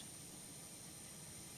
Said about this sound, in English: APU exhaust.